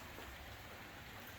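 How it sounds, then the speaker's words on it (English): Steady, heavy rain falls continuously in a constant drenching downpour, making an even, dense hiss with no breaks, faint and distant in level. "It's more of a constant drenching and occasional downpour nonstop."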